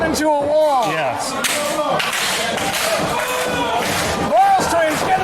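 A wrestler's suicide dive crashes out of the ring at a live wrestling show in Bellingham, sharp slams and thuds ringing out amid a loud, cheering crowd while a commentator talks over the action.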